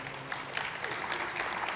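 Audience applause from a crowd at a FreedomFest talk, a steady patter of clapping, fairly faint and distant, heard alone for under two seconds.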